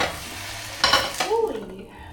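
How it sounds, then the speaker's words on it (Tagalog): An egg fries in a pan with a soft background sizzle, broken midway by two sharp clatters of a utensil against the pan and a brief scraping, ringing tone. "Tapos fried egg na lang i-prepare ko"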